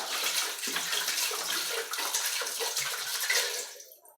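Bottled water pours from a gallon jug into a soup pot holding chicken. It makes a steady, bright splashing rush for about four seconds and then cuts off, with no talk over it.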